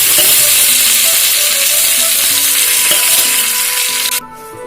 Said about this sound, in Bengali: এবারে মা লাউগুলো দিয়ে দিচ্ছে